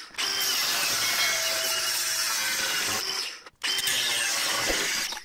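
A power tool cuts notches into a metal tub bracket on a Landcruiser restoration. A loud, continuous high grinding runs for about three seconds, breaks off briefly, then starts again.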